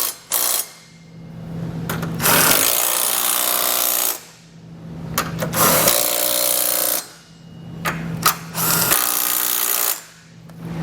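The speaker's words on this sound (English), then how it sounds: "come back with our socket and snug all the hardware down" A socket wrench snugs down trailer hitch hardware on a 2019 BMW X5 in loud, close bursts of rapid ratcheting, with three long runs separated by short pauses and no talking.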